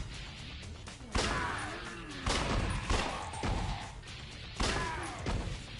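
Gunfire in a zombie video game, several loud sharp shots spaced irregularly over a few seconds, each with a ringing tail.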